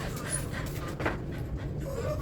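A dog pants and whimpers close by in quick, soft, breathy bursts over a steady background hum.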